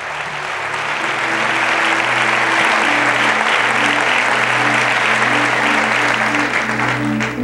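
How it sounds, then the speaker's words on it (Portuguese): A church congregation gives loud, sustained applause during a Portuguese-language service, many hands clapping over a steady sustained musical tone, holding full and even from start to finish. "aplauda ao Senhor por isso."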